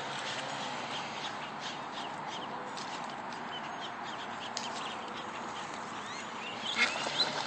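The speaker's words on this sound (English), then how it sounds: "We found baby duckies." Baby ducks quack in a video game, a steady bed of soft, overlapping quacks and chirps running throughout, with a few sharper calls near the end.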